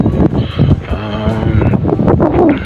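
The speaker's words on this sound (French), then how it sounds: "pour que vous m'entendiez bien à cause du vent, parce qu'il fait un vent pardon, assez violent" Strong, violent wind buffeting the microphone outdoors, heavy low rumbling gusts with flapping, loud and close throughout, with no clear speech.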